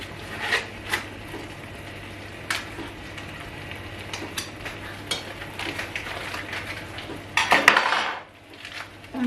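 Cutlery scraping and tapping against a pot while butter is cut into pieces for tomato jollof rice, with scattered light clinks, a louder burst of metal clatter near the end, and a low kitchen hum underneath.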